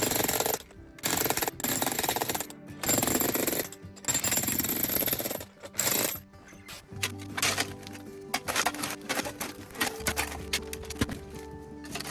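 Loud, rapid jackhammer pounding in long bursts with brief pauses, breaking rock up close while digging a moat for a retaining wall foundation, then lighter clattering and mechanical knocking.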